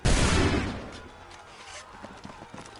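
A burst of musket fire against Redcoats in the video game Assassin's Creed 3, a loud crackling volley that quickly fades into faint scattered battle noise.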